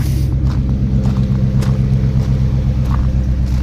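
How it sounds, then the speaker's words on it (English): A 1968 International Harvester Travelall engine runs close by with a steady, heavy low rumble throughout, holding a strong even idle-to-rev drone with no talk over it. "Rev it up one more time."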